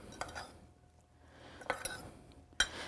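Roasted beets tossed with salt and freshly ground pepper in a bowl, a few faint clinks and scrapes of a utensil against the dish in a quiet kitchen.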